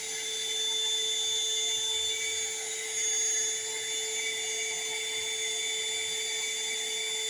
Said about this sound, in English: you just use a heat gun